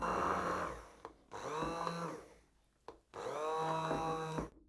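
A blender whirs through a thick mixture in three bursts with brief pauses between them, its motor pitch straining and shifting as it runs nearby.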